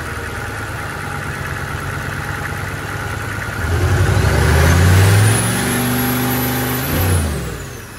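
Turbocharged GM truck engine on a farm dyno, running a manual wastegate setup, revs up hard during a pull. The note climbs and builds to a loud, sustained roar, then drops off sharply near the end, with a whistle rising above it.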